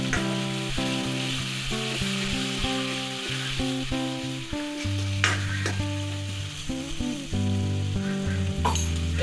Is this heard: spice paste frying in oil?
yes